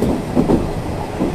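A Nishitetsu 6000 series express train rolls along, its interior rumble steady with faint rhythmic wheel clatter over the rails, close and continuous.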